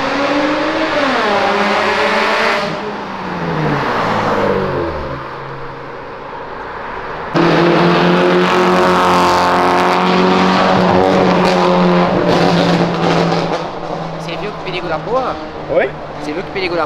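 A Mercedes-AMG GT Black Series accelerates past on a city street, its engine note rising and sweeping loudly, then a second surge of roaring acceleration nearby, with people talking over it.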